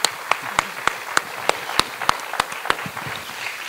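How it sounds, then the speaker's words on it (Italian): An audience at a poetry talk on Emily Dickinson claps in sparse, evenly spaced sharp claps, distinct and fairly close, about ten over a few seconds rather than a full ovation. "Io applaudo a Emily Dickinson."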